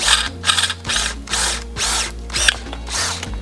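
A drill screeches through a stainless steel rivet in repeated high-pitched bursts, about six of them, with a low mechanical hum running steadily underneath, close and loud.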